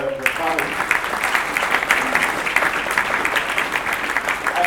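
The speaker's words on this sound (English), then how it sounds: "So maybe a round of applause for them." An audience at a panel event claps for realtors and a man named Shane, a steady moderate round of applause lasting several seconds, with a voice briefly heard at the start.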